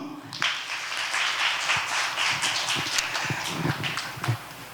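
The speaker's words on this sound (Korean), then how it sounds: "네, 박수!" Youth congregation at a church winter retreat clapping together for about five seconds, a dense, steady patter of many hands indoors with a few brief voices mixed in.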